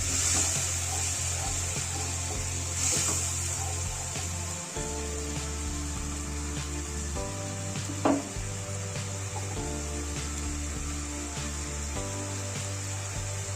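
Shrimp sizzle loudly in a pan with spices and a splash of water, a constant frying hiss broken by the scrape of a utensil stirring them. One sharp knock sounds partway through.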